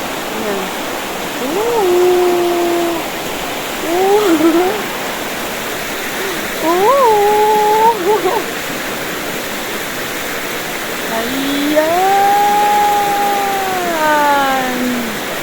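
Small river flowing on a cloudy day, a steady broad rushing of water heard throughout, with birdsong-like whistled calls rising over it at intervals.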